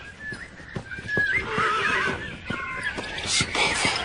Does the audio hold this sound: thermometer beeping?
no